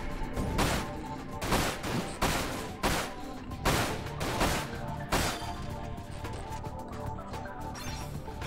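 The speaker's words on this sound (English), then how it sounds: "Kind of a slow rate of fire." Gunfire in the action shooter Dirge of Cerberus, heavy single shots spaced about a second apart with a slow rate of fire, loud and booming over a continuous game soundscape.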